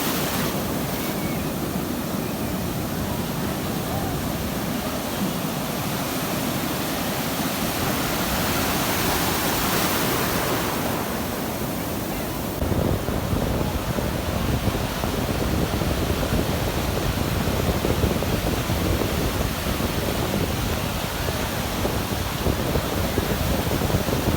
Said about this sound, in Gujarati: એકવાર મોજા જુઓ કેવડા ઊંચા ઊંચા આવે છે